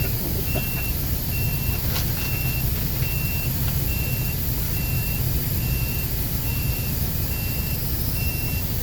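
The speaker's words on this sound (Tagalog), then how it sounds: "Paatras pa yan." A fire truck backs up, its reversing alarm beeping in a steady, evenly spaced rhythm over a constant low engine rumble. No voices are heard.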